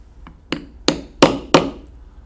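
A hammer strikes a leather stamping tool four times in an irregular rhythm, each sharp thwack close and distinct against a quiet background, with one faint tap before them.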